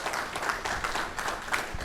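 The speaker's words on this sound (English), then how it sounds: "Another round of applause for Ms." Brief, soft applause for a speaker at a Ramapo Indian Hills Board of Education meeting, with scattered claps heard from a distance at a modest, uneven level.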